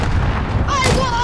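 An RPG is fired and explodes in Call of Duty: Modern Warfare, a short loud blast with a booming rumble, followed by faint high game tones.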